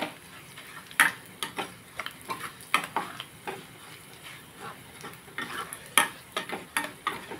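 Fenugreek and mustard seeds fry in hot oil for a tempering, giving a soft continuous sizzle broken by irregular sharp pops and spoon clicks against the pan throughout.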